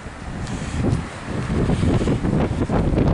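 During a storm, strong wind roars through trees in gusting, rushing surges, with heavy buffeting on the microphone and no talking.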